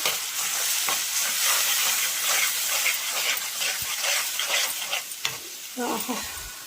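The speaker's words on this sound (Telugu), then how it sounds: "వేగిపోయింది టమాటా పచ్చడి" Tomato chutney fries in a pan with a steady, loud sizzle and intermittent stirring scrapes, close up and continuous with no talking.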